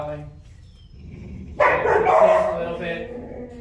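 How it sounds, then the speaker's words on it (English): A dog growls and rumbles from nearby, rising suddenly partway through and holding steady, while a person talks over it. "Growling."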